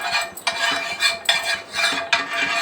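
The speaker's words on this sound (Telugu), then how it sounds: "ఇప్పుడు స్టవ్ మీద ఒక పెంక పెట్టుకుందాం. పెనం పెట్టుకొని కొంచెం నెయ్యి వేసుకొని" A pan set on a stove with ghee added for bottle gourd paratha, heard as a few loud metallic scraping strokes against the pan surface in quick succession, no voices.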